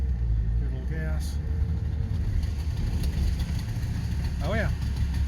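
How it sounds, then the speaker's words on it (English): Two-stroke Subaru 360 van engine revving as it is given gas in first gear, a steady low drone with a brief rising whine near the end, under faint background voices. "So first gear is back. Give it a little gas."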